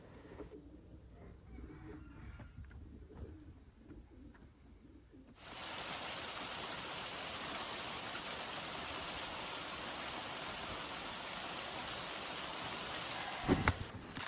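Rain falling on an allotment garden, starting as a faint patter beneath distant bird calls and then swelling abruptly into a steady, dense hiss of rainfall that carries on to the end.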